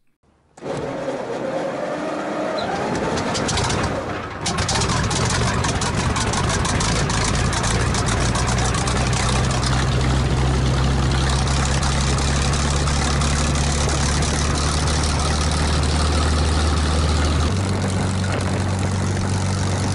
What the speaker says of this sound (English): when you're ready to turn the prop, your left forefinger goes to the start button, bottom left